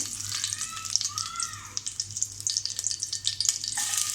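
Curry leaves hit hot oil in a pan over a low gas flame for chicken masala gravy, giving a bright continuous sizzle with crackles and light stirring, close and fairly loud.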